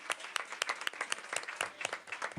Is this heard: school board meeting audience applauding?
yes